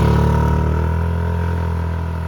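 A Hero Destini 125 Xtec 125cc scooter engine runs steady and close, a loud droning hum that eases slightly in volume over a couple of seconds.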